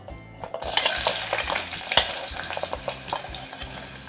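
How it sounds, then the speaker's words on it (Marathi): Finely chopped large onion dropped into two small ladles of hot oil for tempering, a quiet start bursting into loud crackling sizzle with repeated stirring clatter. "त्याच्यामध्ये मी दोन छोटे पळी तेल घातलेलं आहे ते गरम झालं आहे आता आपण फोडणीसाठी कांदा घालायचा आहे"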